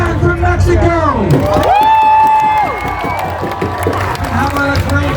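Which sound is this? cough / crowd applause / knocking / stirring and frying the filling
crowd applause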